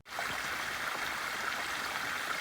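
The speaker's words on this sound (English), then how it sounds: "this is East Saline Creek, our first water crossing of the morning" East Saline Creek flowing at a trail crossing, a steady close rush of stream water with a constant, even hiss and no voices.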